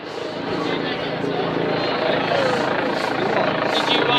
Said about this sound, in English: That's the helicopter up in the sky.